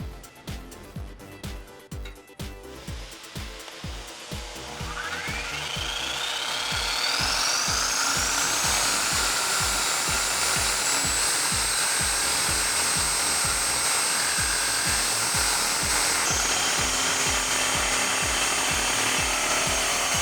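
A power tool cuts through the exhaust pipe of a Jeep Wrangler JK during a Magnaflow loop delete install, starting with rough bursts, then settling into a loud, steady, rising whine that holds to the end.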